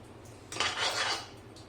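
A tablespoon of desi ghee is spooned into a kadhai to start water chestnut halwa, heard as one brief soft metallic scrape and clink of spoon against the pan, close and quiet, otherwise near silence.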